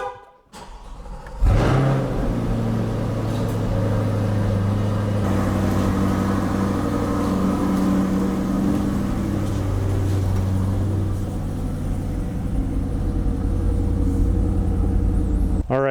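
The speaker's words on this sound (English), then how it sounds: "I'm going to pull the vehicle outside." A C8 Corvette starts up and rumbles at low speed outdoors on an overcast day, a steady nearby engine drone holding for the length of the drive.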